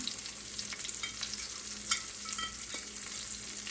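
Food frying in oil in a frying pan, giving a steady, fairly quiet sizzle with small crackles and pops throughout and no voices.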